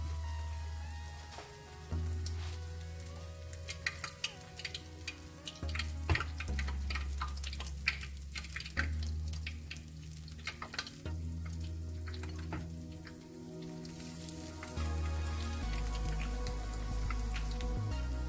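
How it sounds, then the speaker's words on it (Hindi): Eggplant and potato patties frying in hot oil, a steady crackling sizzle with scattered pops and spatters, fairly quiet and close, with a low background hum throughout. "अब इसे मैं गोल्डन ब्राउन करूँगी, फ्राई करूँगी इसके।"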